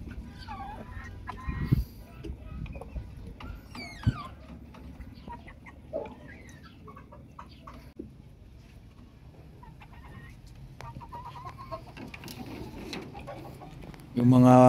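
Four-month-old chickens on a backyard poultry farm cluck softly and intermittently under steady background noise, with a louder burst near the end.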